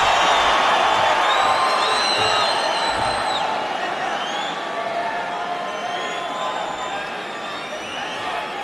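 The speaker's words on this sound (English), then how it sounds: "And the reaction of the crowd" Arena crowd at a UFC bout roaring and cheering loudly and continuously, with whoops and a steady wash of voices that eases slightly over time, a commentator talking underneath.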